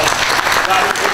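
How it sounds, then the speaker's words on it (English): Brief, steady round of applause from the audience at a local newspaper's candidate forum, a dense patter of many hands filling the room. "If we can please have a round of applause"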